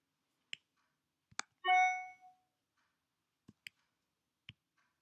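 Sharp mouse clicks on a computer while working in RouteXL route-planning software, several isolated taps spread across a quiet background, with a brief soft chime in between.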